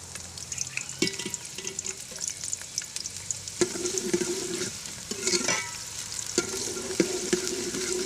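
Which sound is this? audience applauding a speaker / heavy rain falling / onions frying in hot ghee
onions frying in hot ghee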